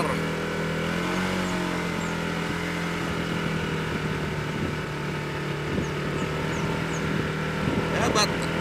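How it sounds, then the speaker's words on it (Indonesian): A modified Honda PCX 160 scooter's engine runs steadily during a test ride, giving a continuous buzzing drone with some wind and road noise and a brief rough burst near the end. "Oke guys, kita tes motor."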